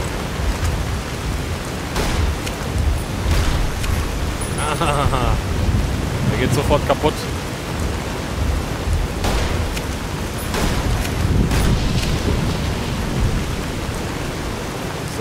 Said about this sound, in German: Oh, aber es ist so cool, dieses Unwetter.